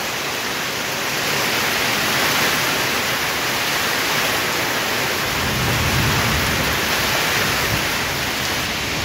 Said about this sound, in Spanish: Y el viento sí está bastante peligroso, ¿verdad? Por los árboles.